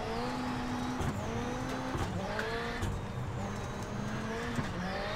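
A Ford Fiesta RS WRC rallycross car at the Phoenix round of Red Bull Global Rallycross, its engine revving and dropping as it brakes and slides, with repeated rising and falling pitch sweeps, loud and close throughout.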